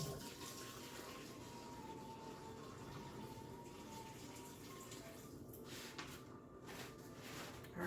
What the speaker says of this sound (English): Let me drain some of this water and see if I can get a little bit more out.